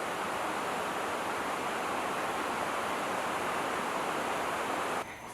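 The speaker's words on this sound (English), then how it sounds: "I'm sure you can hear the rain pouring down" Heavy rain pours down steadily on a cozy rainy night, a dense, even hiss that stays constant and close, ending with a slight drop near the end.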